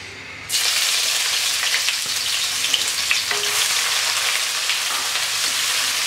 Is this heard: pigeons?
no